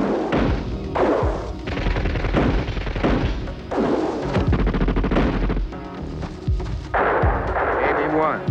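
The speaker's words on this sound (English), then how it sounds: "Stop shooting immediately." Heavy gunfire and explosions in a 1993 war action movie, with dense bursts and booming thuds under shouted voices, loud and continuous across the scene.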